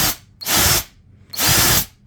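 A budget brushed cordless impact driver, two-brush design, revs up in two loud bursts of about half a second each, with a short gap between them and no talking.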